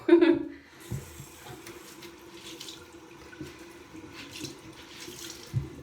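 Tap water running into a sink while skin is rinsed, a soft continuous splashing with brief louder bursts, close and moderately quiet, with faint talk underneath.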